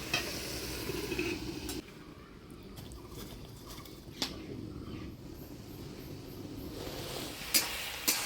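Taro greens with green chillies and turmeric being stirred in a pan: a steady low sizzle with scraping spoon strokes and a few sharper clinks against the metal, close and continuous throughout.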